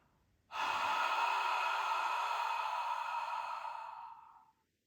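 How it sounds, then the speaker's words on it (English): A single long whispered ha exhale forced through a constricted throat in ujjayi yoga breathing, a close, steady breathy hiss lasting about four seconds before fading out. "we're going to use our breath on our exhale to fog up the mirror"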